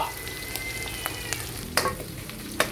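Field rat stir-fried with holy basil sizzles steadily in a pan, with sharp scraping clacks of the spatula at intervals, close and moderately loud, no voices.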